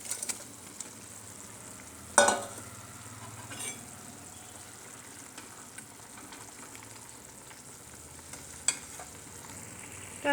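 Fish curry with kochur loti (taro stolons) and shol fish simmers in a pan with a steady low sizzle and bubbling, broken by a few sharp clinks of a utensil against the pan.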